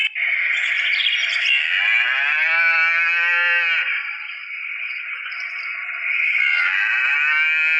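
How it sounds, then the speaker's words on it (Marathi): A cow moos in long, drawn-out calls, loud and close, with a brief dip midway before a final low bellow, no voices alongside. "त्यातही गायीचं हंबरणं आपल्याला सगळ्यांना परिचयाचं आहे।"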